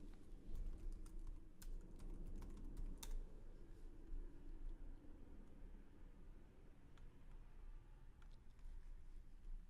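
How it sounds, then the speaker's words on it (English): Typing a command on a computer keyboard, faint scattered key clicks in short bursts over a low steady hum. "we just type show options to see what is required to use this exploit"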